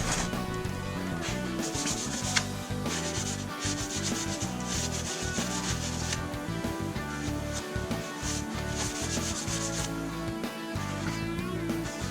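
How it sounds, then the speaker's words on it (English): Steady rubbing as paste wax is worked onto the steel head of a splitting maul, a continuous close scrubbing friction with slight rhythmic strokes running throughout, no voices. "So this splitting maul is getting a nice coat of paste wax here"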